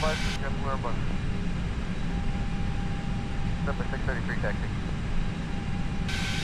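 An Airbus airliner in the Airbus X Extended flight simulator taxis onto the runway with a steady, broad engine roar throughout, while a person talks over it.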